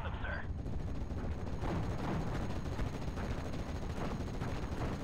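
An artillery barrage rumbles through a Steel Division: Normandy 1944 wartime strategy game, a continuous dense roll of booming blasts and gunfire with talk over it.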